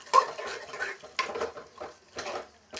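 Cooked dal and tomato poured from a vessel into a pan for a ridge gourd kootu, soft wet slops and metallic clinks of a pot in three short bursts, close and quiet.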